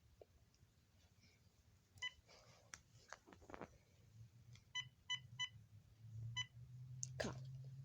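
Telephone keypad tones beep in short bursts, a faint toy-like sequence of separate dialing pips followed by a longer tone, fairly quiet over a low background hum.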